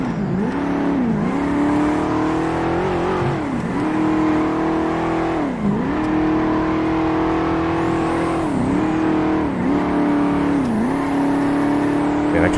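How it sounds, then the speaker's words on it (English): A small RC Ruiner car in GTA FiveM revs its engine loudly and continuously, the pitch climbing and dropping in repeated surges about every two seconds, with no talk over it. "The little RC car ruiner."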